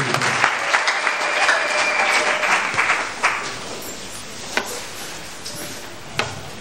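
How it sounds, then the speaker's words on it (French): Crowd applause at a community gathering with local authorities in Kananga, a burst of clapping that fades after a few seconds into scattered claps and background murmur. "Applaudissez pour nos autorités de la communauté."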